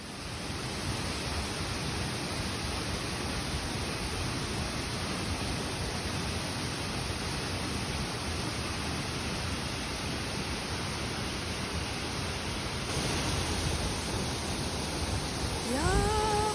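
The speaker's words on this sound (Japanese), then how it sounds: "これが我々が探していたルマランの滝です。" Lumalan waterfall on Sulawesi, Indonesia, roars with a steady, powerful broadband rush of falling water, loud and unbroken throughout, with a faint voice at the very end.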